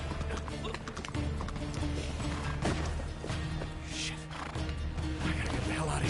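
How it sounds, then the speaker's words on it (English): Horse hooves clip-clopping in Uncharted 3: Drake's Deception, a steady rhythmic trot beneath a busy mix of game sound and a talking voice. "Looks like it's our horse now."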